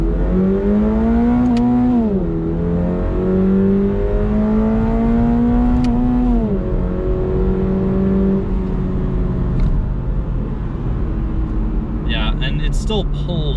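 A 2022 Toyota GR86 with a boxer engine revs up through first to third gear, a loud deep growl climbing in pitch with brief dips at each shift, heard close from inside the car.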